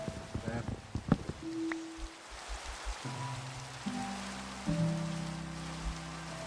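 Minecraft rain falling as a steady, soft hiss through the whole stretch, with game tones and a few clicks layered over it.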